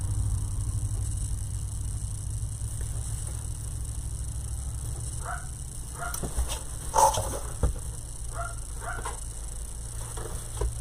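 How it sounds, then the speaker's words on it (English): Several dogs bark and yip in short bursts at a moderate distance, a cluster of sharp barks rising over a steady low background hum, with no talking. "I need a vacation from my dogs"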